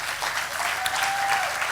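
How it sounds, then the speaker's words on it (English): Brief burst of steady audience applause at a youth leadership summit, dense even clapping filling the whole moment with a faint tonal hum underneath. "So let's give a round of applause to S.M.I.L.E."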